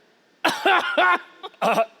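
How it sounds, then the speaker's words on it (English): A person gives several short, rough coughs in quick succession during a tabletop role-playing game session, close and clear against a quiet background. "I start coughing"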